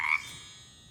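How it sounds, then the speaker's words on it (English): A single frog croaks briefly and faintly at the start in a Halloween-themed spooky sounds segment, then fades into quiet. "We heard a frog croak!"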